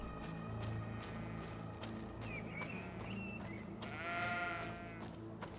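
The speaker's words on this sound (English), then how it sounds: "This looks like just plain sheep." Sheep in the video game GreedFall bleat several times over a low ambient game soundscape, including one long wavering bleat near the end, with no speech.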